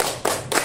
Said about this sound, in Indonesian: sekali lagi terus tepuk tangan ya